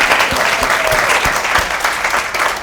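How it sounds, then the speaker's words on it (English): Audience applause at a comedy panel on women in comedy, a full burst of clapping with a few sharp individual claps standing out as it carries on. "That deserves applause, y'all."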